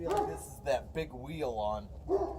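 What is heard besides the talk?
dog barking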